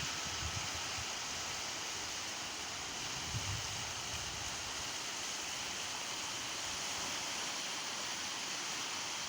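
A river flows steadily in a natural setting, its broad continuous rush of water holding even and close throughout with no voices.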